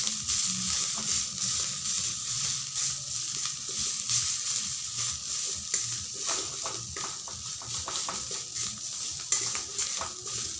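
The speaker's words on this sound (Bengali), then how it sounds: "এভাবে ভালো করে নাড়াচাড়া করে ভেজে নিতে হবে।" Ginger and garlic paratha filling stir-fried in a pan with butter, a steady loud sizzle under continuous scraping and stirring strokes from a spatula, no talking.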